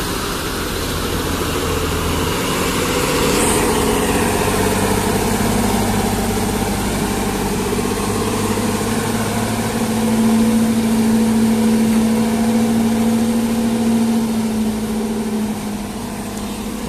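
An ALS intercity bus running the Medan–Solo route idles at an arrival terminal, its heavy diesel engine giving a steady low rumble with a rising drone partway through, close and continuous with no talk over it.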